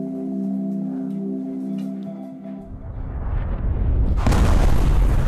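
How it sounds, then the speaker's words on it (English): A bombing explosion at a primary school in the video game Liberated, as a steady tonal hum gives way to a rising, rumbling roar that swells into a loud, sustained blast wash at the end. "Oh no, it was a bombing."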